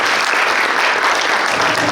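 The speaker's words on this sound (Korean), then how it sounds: "우리 자축하는 큰 박수 한번 드리면 어떨까요?" Steady, dense audience applause at a university-industry cooperation forum, a full hall clapping loudly and continuously without pause.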